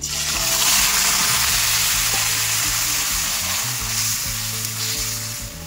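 Bottle gourd greens hitting hot oil with browned garlic, a loud steady sizzle and crackle of frying that holds for several seconds, with low clanks of stirring underneath.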